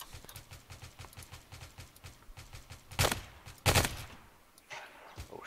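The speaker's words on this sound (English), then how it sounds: "I hear the shots." Gunfire in a tactical video game firefight: two loud close shots stand out over steady rhythmic footfall-like thuds, followed by quieter distant noise.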